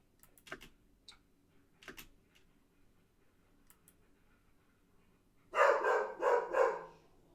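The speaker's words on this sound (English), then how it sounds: "And there's the dog again." A dog barks from a distance, two faint sharp barks early on, then a louder burst of several barks near the end, with quiet clicking in between.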